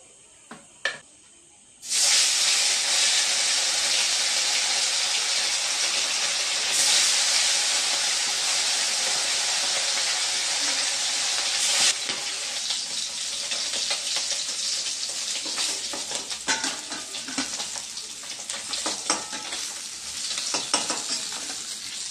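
Fish frying in mustard oil in a home kitchen pan, a loud steady sizzle and hiss that bursts in after a brief quiet start, with occasional stirring scrapes, continuing for about twenty seconds without talk.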